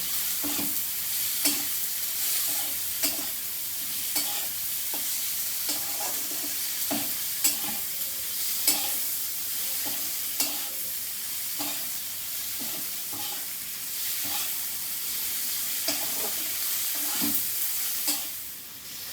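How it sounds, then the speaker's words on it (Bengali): Prawns frying with onion in a pan, a constant close sizzle broken by regular scraping strokes of a spatula throughout. "এর মধ্যে চিংড়ি মাছ দিয়ে দিলাম চিংড়ি মাছটা পেঁয়াজের সঙ্গে ভালো করে ভেজে নেবো"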